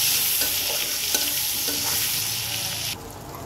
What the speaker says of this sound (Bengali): সেম একই তেলে আমি কিছু আলু সেদ্ধ করে নিয়েছিলাম, একটু হালকা ভেজে নেব।